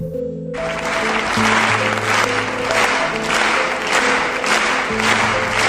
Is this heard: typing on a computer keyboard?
no